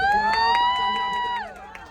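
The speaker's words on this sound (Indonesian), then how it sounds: "Tepuk tangan untuk KK Indonesia, tepuk tangan untuk pengurus KK Indonesia" An audience at a testimonial gathering in Bangkok cheers, one long sustained shout ringing above the crowd while scattered claps pop through, the shout sliding down and fading near the end.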